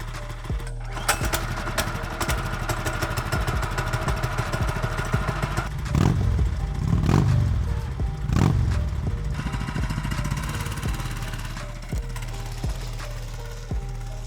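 A small ATV engine cold-starts, cranking and catching without an electric starter, then settles into a steady rattling idle with a few throttle surges, loud and close.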